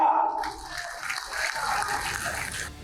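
A crowd of party workers claps for Keshav Prasad Maurya's speech, and the broad applause comes in after a few words at the start and carries on steadily until the end.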